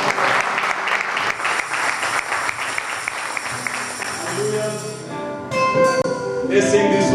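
Church congregation clapping to welcome an evangelist at a gathering, a rhythmic burst of hands under music and voices that fades after about five seconds as singing and instruments take over.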